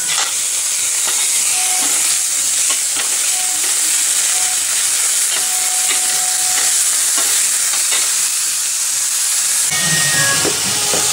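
Garlic paste fries loudly in a pan with fenugreek leaves and potatoes, a dense, constant hiss and crackle with faint stirring taps throughout.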